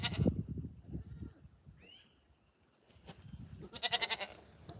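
A couple of goats bleat in a field at sunset, with a cow nearby. Several short, wavering calls come from moderate distance over quiet background noise, with a cluster of bleats near the end.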